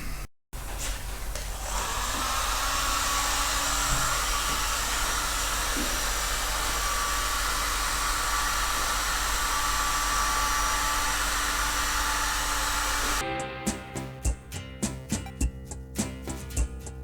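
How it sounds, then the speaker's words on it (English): A heat gun blows a steady, loud, hissing rush of hot air while drying a metal expansion chamber. It runs unbroken for about twelve seconds, then cuts off, and a few clicks and knocks follow. "I'll spend a bit of time on it with my heat gun just to make sure there's no moisture hidden in spots"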